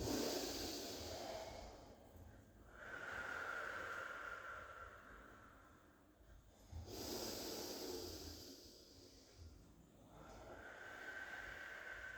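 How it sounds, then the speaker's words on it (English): Slow, deep breaths drawn in and let out during a Pilates stretch, each long airy inhale and exhale swelling and fading in a steady cycle, close and fairly quiet with no talking. "Take lovely deep breaths in and out."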